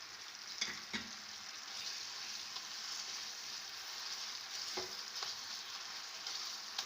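Khoya cooking with sugar in a pan for coconut barfi makes a faint, even sizzle, broken by a few light clicks of a spoon.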